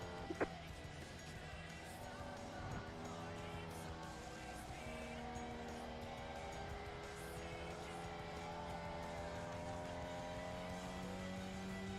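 Ferrari GT3 race car in a racing video game, engine droning steadily with sustained high tonal tire squeal layered over it through a corner, continuous and fairly loud throughout.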